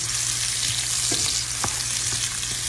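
Onion and ginger sizzle steadily in a hot pan for a tamarind pinangat dish, a close, even frying hiss broken by a few soft clicks of stirring.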